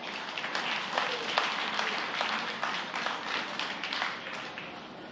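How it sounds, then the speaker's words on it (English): An audience at a county fair dairy beef showmanship event claps in a steady, moderately loud round of applause that holds for several seconds, then begins to thin toward the end. "Let's give them a big round of applause."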